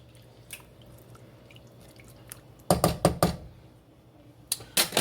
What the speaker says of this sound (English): So I'm just going to stir it all up